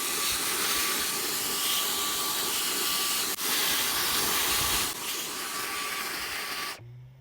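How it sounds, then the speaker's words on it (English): A vacuum cleaner runs with a steady loud hiss and roar while cleaning a dirty, mineral-crusted machine unit, briefly interrupted, then cutting off abruptly near the end. "I'm going to hit it with a vacuum cleaner just so I can put it down on the table."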